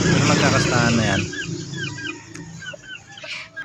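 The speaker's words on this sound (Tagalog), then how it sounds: "ayan nga pala yung mga darag chicken ko" Darag native chickens cluck and chirp in short bursts close by, with a brief stretch of rougher calling at the start.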